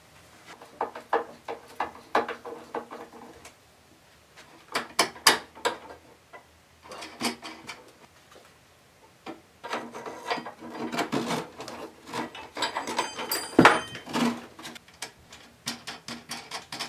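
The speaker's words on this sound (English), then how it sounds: "So I need to unbolt this and get this fitted on there." Metal bolts and frame parts of a Hulkbuster cosplay frame are worked loose, giving intermittent clicking, ratcheting and clunking bursts at close range, separated by quiet pauses, with no speech.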